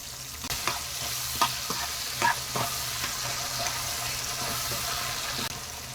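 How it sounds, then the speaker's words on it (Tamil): Onions and tomatoes sauté in a pan for tomato chutney, giving a steady close sizzle and crackle with intermittent scrapes and clinks of a stirring spoon throughout. "இப்போ நல்லா வதக்கி விடணுங்க. தக்காளி எல்லாம் மசிகிற அளவுக்கு வதக்கிக்கலாம்."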